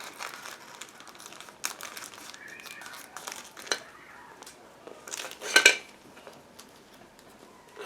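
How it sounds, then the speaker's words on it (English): Rustling, crinkling plastic as a bag holding the turret part of a Meng 1/35 T-72B3 model kit is handled and pulled open, with a sharper crackle burst near the end; fairly quiet and close, no talking. "turret part, which is packed into separate plastic bag. So just give me a second to open it."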